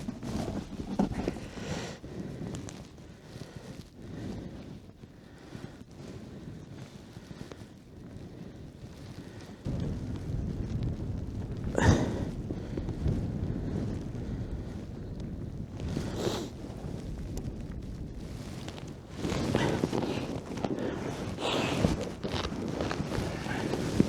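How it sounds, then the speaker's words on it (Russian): A strong blizzard wind buffets the microphone out on a frozen lake during ice fishing. It roars as a continuous, rough, gusting noise with louder surges, and a voice can be heard now and then. "Ветер ужасный, ребята."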